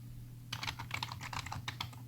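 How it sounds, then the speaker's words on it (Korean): Rapid keystrokes on a computer keyboard while renaming an item in Excel, a quick run of close, fairly soft clicks over a low steady hum, with no talking. "새로운 이름을 입력하고 엔터를 누릅니다"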